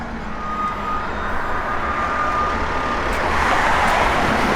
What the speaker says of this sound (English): Good sounding X pipe. Dual exhaust system in it with the chrome tips.